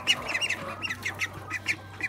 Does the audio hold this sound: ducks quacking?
yes